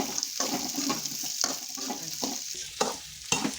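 Carrots and beans sautéing in a little oil, a soft sizzle under repeated scraping and stirring strokes of a spoon against the pan, with brief clinks at a moderate, close distance.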